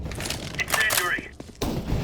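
Incendiary grenade going off amid gunfire in Counter-Strike: Global Offensive, with loud cracking bursts and thuds, a brief hissing flare, then a sudden drop and a renewed burst of noise; voice callouts sit in the mix.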